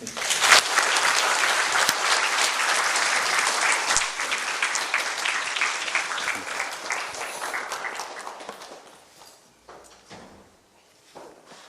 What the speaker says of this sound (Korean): 우리 강명도 교수님 박수로 맞이하겠습니다